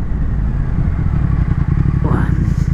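A Triumph Thruxton RS motorcycle engine drones loudly and steadily while riding, with a low rumbling pulse and wind noise throughout and a brief rising tone near the end.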